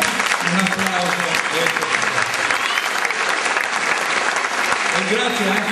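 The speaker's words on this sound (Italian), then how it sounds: "Un applauso." Theatre audience at an Italian amateur comedy performance giving loud, dense, continuous applause close by, with a few voices faintly audible beneath the clapping.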